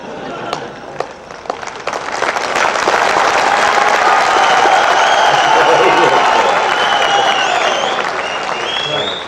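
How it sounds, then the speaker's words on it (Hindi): An audience at a university poetry gathering breaks into applause. The clapping starts as scattered claps, then swells into a dense, loud, sustained round that holds steady and eases slightly at the end. "आज कविता करनी है तो पहले जरा तालियों की टेस्टिंग कर लूं।"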